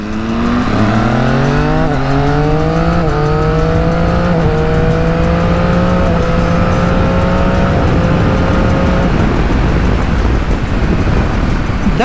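A Ducati V4 motorcycle accelerates hard, shifting up through the gears with a quick shifter. The loud, close engine note climbs in pitch, drops sharply at each rapid change, then fades into wind noise.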